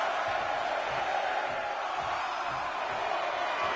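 A wrestling match crowd cheers in a constant, dense roar that fills the whole stretch with no breaks.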